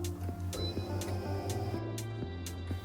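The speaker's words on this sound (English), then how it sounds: "it's the world's only flatbed laminator that operates with electric motors and not an air compressor" A KALA flatbed laminator driven by electric motors runs with a steady low mechanical hum and regular ticking clicks about every half second, close and moderately loud, with no talking.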